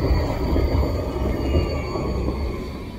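A city tram rumbles past nearby on its rails with a loud, steady low roar and faint metallic wheel squeal tones, continuous throughout.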